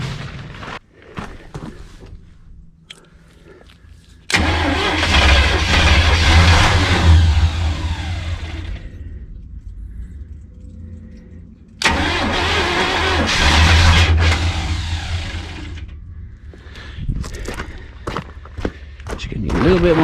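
An old RV engine that has sat unused for a year, being started with the choke half on. It cranks and catches in two loud bursts of running and revving, with quieter gaps and clicks between them.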